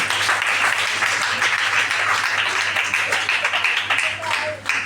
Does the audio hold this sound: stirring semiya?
no